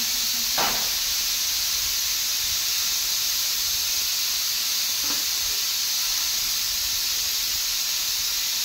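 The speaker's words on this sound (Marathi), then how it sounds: "कुकरची शिटी गाइस, कुकरची शिटी" A pressure cooker whistle in a home kitchen lets off a steady, loud hissing jet of steam that runs unbroken throughout, with a couple of faint knocks and no talking.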